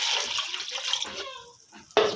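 Water pours steadily into a pressure cooker holding washed masoor lentils, a close splashing stream that tapers off before a brief sharp knock at the end.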